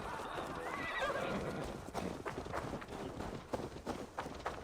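A horse in Assassin's Creed Valhalla whinnies with a wavering neigh, then hooves clip-clop in a quick irregular rhythm, close and moderately loud.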